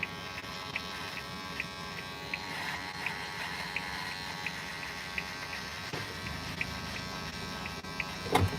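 An electric shaver hums steadily at close range, a continuous buzzing drone with faint regular ticks, running without pause for several seconds.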